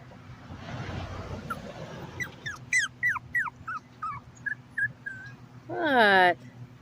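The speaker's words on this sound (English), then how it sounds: "And the puppy here crying." Puppy crying outdoors in a run of short, rising whimpers and yips, ending in a louder drawn-out whine, heard close over steady background hum.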